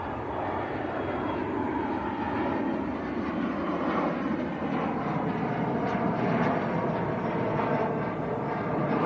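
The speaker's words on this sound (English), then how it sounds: "Logan Air Embraer just getting airborne. E145." A Loganair Embraer E145 regional jet getting airborne at Manchester Airport, its engine noise a steady, moderately loud roar that swells slightly midway, heard alone without voices.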